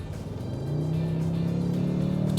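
A 2022 Toyota Tundra truck accelerates at full throttle, its turbocharged engine note rising steadily and growing louder into a sustained, close, strong roar, with no talking.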